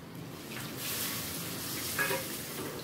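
Dhoka curry in a pan with a little water added, stirred and sizzling steadily, with a soft scrape of the spoon, close and fairly quiet.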